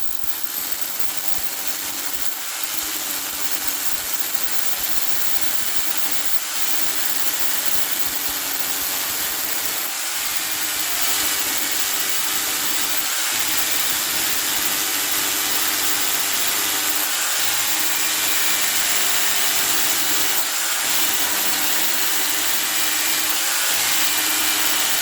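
A Parkside PBH 800 hammer drill runs continuously with a loud, steady motor whine and hammering buzz, broken by a few brief dips in load, close up and with no talking.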